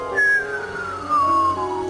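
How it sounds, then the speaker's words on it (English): A whistler radio signal produced by lightning: two gliding, descending whistle-like tones sweep downward one after another over a faint hiss, clear and isolated without speech. "This is a strange kind of signal called a whistler."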